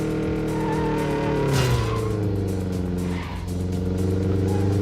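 Car driving in the Neverness To Everness video game, a loud engine roar that falls in pitch with a brief tire squeal and a quick gear change, close and continuous with no talk.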